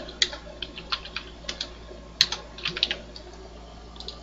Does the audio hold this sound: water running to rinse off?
no